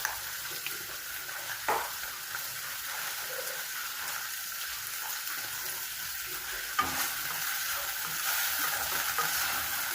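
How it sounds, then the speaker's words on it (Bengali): Vegetables frying for pasta in a pan, a soft steady sizzle with occasional stirring scrapes and clinks, fairly quiet and close. "খানিকক্ষণ রান্না করবো যতক্ষণ না সবজিগুলো হালকা নরম হয়ে আসছে"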